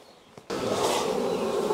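A honey bee colony buzzes loudly and continuously at close range as the hive is opened for work, the dense droning hum starting abruptly after a quiet moment.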